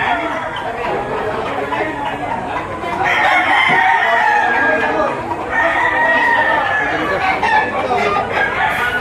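Several roosters crow loudly and repeatedly at a poultry market in Lipa, Batangas, Philippines, overlapping one another amid a busy, noisy yard, with murmuring voices in the background.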